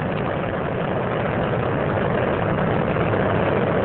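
Space Shuttle Columbia's three liquid-fuel main engines roar during launch ascent, a steady, dense broadband rumble that holds constant and loud throughout, with no voices.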